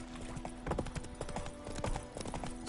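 Horse hooves clip-clop steadily in Witcher 3, with crisp rhythmic footfalls at close range over a low ambient bed and no talking.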